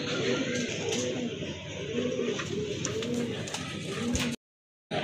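Rajgolla pigeons at a farm cooing in repeated soft rolling calls, close and clear over a low background murmur, ending with a brief cut to silence.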